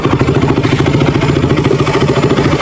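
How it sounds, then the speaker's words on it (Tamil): A KTM RC 200 motorcycle's exhaust rumbles steadily and loudly up close, a dense, continuous engine note with rapid pulsing throughout and no speech. "ஸோ இந்த பைக்கோட எக்ஸாஸ்ட் நோட் எப்படி இருக்குது"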